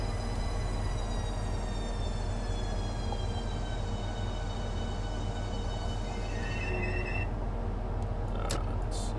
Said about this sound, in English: how pretty is this train going through the countryside?